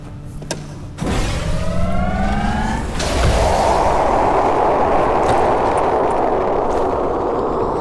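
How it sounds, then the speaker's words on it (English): A laser cannon in the Trepang2 video game powers up with a rising whine, then fires with a loud blast that settles into a sustained roaring beam, heavy and close. "106 hits the breaker one last time and fires up the laser cannon."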